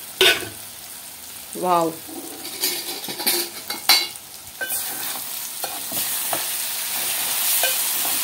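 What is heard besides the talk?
stirring eggplant curry in a cooking pan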